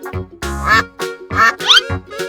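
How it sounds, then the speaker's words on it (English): A cartoon duck quacks in a quick series of bright, nasal calls, about four bursts close and loud, with short gaps between them. "Duck."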